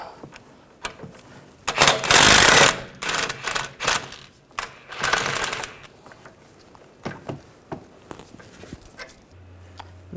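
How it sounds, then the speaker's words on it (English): Ratchet and 18mm socket working a bolt loose on the rear lower ball joint of a 2006-2010 BMW 550i, heard as bursts of clicking and metallic rattling with a sharp clatter near the end, close and fairly loud. "Using an 18mm socket, we're going to take this bolt out."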